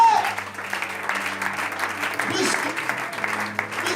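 A church congregation applauds God during a service, with steady clapping that runs throughout and a voice speaking over it.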